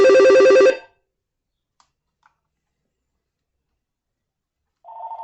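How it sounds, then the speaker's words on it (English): A cordless phone rings once in a loud, close burst, then falls into near silence with a couple of faint clicks, before a brief electronic tone sounds at the end. "I'll let the cordless phone, answer it."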